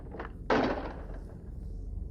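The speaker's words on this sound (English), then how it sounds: "A loud banging noise is heard coming from a trapdoor near" A loud bang from a trapdoor hits once, sharp and close, then fades into a low rumbling room tone with no talk.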